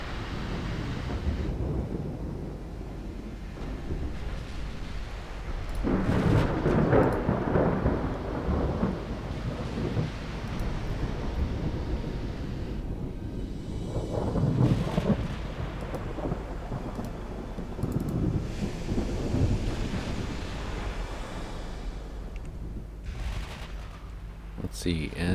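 Naval gunfire from a distant battlecruiser with 12.6-inch guns in Ultimate Admiral Dreadnoughts, heard as deep, rumbling booms that roll out in several separate salvos, with a voice talking over them.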